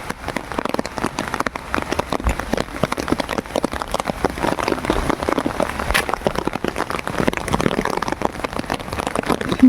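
Heavy, steady rain pours down outdoors, a loud, dense patter of drops striking surfaces nearby, continuous and unbroken with no voices.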